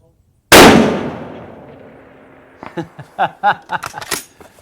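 A single sharp, very loud rifle shot from a Savage 110BA chambered in .338 Lapua Magnum, fired outdoors at a target, with a long echoing decay before people start talking.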